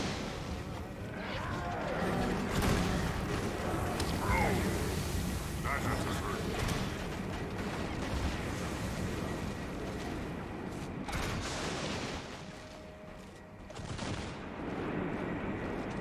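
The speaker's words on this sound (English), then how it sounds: "Basically, I gotta get her to stand in the cannon fire." Cannon fire from a pirate ship in the video game Guild Wars 2: dense, continuous booming and crashing battle noise, loud and sustained, with a brief dip near the end.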